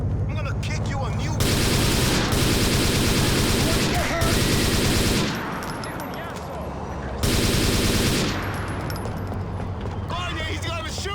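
Heavy gunfire in GTA Vice City, long sustained bursts of rapid shots filling the soundscape, pausing and resuming, loud and close with voices shouting over it.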